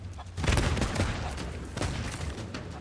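Rapid gunfire bursts from a pirate firefight in the video game Sea of Thieves, loud and sustained with dense overlapping shots across the whole stretch.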